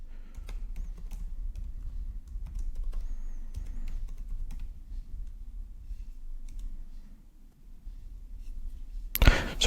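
Someone types a passphrase on a Mac computer keyboard, giving soft, irregular key clicks over a low hum. A louder burst of noise cuts in at the very end.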